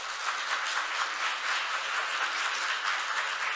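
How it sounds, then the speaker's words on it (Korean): Steady applause from a conference audience welcoming panelists at an international patent court symposium, dense and even throughout, with no voices on top. "큰 박수로 환영해 주시기 바랍니다."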